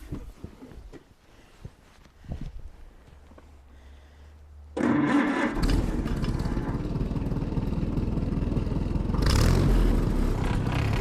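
Engine of a 1955 Oliver tractor cranks over and fires at about five seconds, then settles into a loud, steady running drone that swells slightly near the end.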